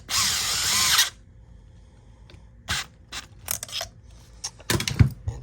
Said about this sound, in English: Then we're going to take our drill.